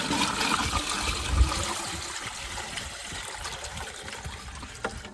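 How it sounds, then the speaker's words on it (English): Water pours steadily from one bucket into another, a continuous splashing trickle that starts heavy and eases off, close by with no talking. "I'm gonna go ahead and pour the water from this bucket into this bucket."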